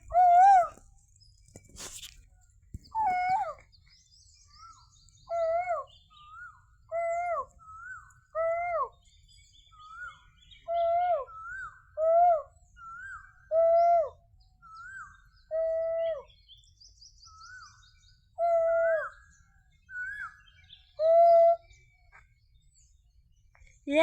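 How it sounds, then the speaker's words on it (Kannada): An Asian koel calls again and again in a rural, tree-lined setting, with clear, rising two-note phrases repeated at a steady pace over about twenty seconds. The calls are moderately close and stand alone against a quiet background. "ಕೋಗಿಲೆ ನೋಡ ಹೆಂಗೆ ಕೂಗ್ತಾ ಇದೆ"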